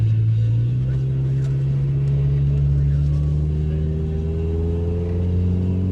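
A small Yugo car motors along Massachusetts Avenue in Washington, D.C., its engine a steady close droning hum that rises slightly in pitch as it accelerates, with road rumble underneath.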